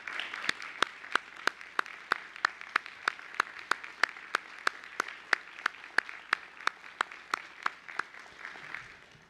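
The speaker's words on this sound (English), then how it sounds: "let's give them a round of applause" At a county school board meeting, quiet, evenly spaced claps ring out at a steady rhythm of roughly three per second, sounding like a small group or a single nearby clapper in a hushed room.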